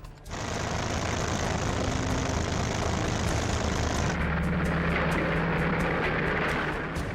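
World War II propeller aircraft, a dense, loud, continuous engine drone that holds steady and then shifts in tone partway through, with no voices over it.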